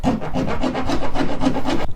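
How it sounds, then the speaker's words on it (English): A hand file rasps back and forth to enlarge a hole for a boat rod holder, giving about eight even, rhythmic strokes close up, with no talking. "I'm going to use a file to make it bigger."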